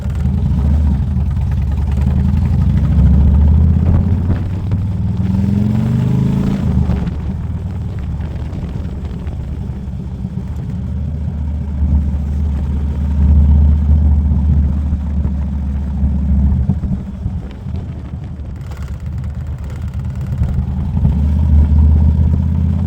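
A 2007 Harley-Davidson Electra Glide Standard (FLHT) motorcycle engine runs with a deep, steady, loud rumble that swells and eases slightly over more than twenty seconds, with no talking.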